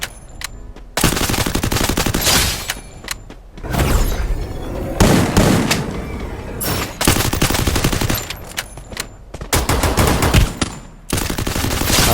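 Gunfire in the Free Fire mobile battle royale video game: repeated loud bursts of rapid automatic fire separated by short pauses, close and dominant, with no talking.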